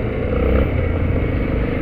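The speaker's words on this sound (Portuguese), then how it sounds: "o som da moto fica mais encorpado" A BMW S1000RR motorcycle engine rumbles steadily up close, its deep exhaust note throbbing continuously without pause.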